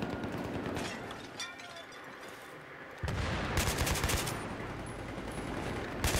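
Rapid bursts of Battlefield 3 gunfire, a lighter stretch of scattered shots, then louder sustained automatic fire against constant background noise.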